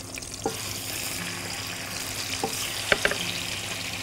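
Chicken pieces sizzle in a hot pan, a steady frying hiss with a few sharp pops and crackles as pieces settle, close and clear with no voices.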